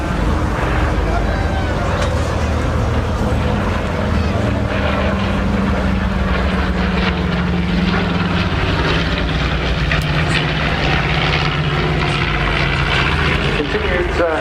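A twin-engine warplane powered by two 1700-horsepower Wright engines flies past at an airshow, a continuous loud propeller-engine drone that swells and fades, with an announcer talking over it.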